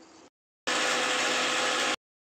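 A mixie grinds sautéed onion, tomato and curry leaf masala into a paste, with a loud, steady motor whir in one burst of just over a second, preceded by a shorter run, with silence between.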